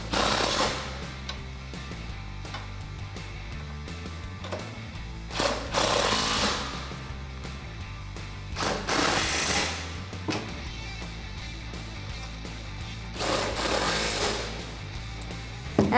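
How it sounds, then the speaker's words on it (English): Ratcheting clicks and mechanical rattling from a 17mm socket wrench tightening nuts on lag bolts of a 2-inch receiver hitch basket-style cargo carrier on a Tacoma, steady and close with a few louder bursts, no talking. "And now with your 17mm socket, go ahead and tighten up the nuts on the lag bolt on the inside."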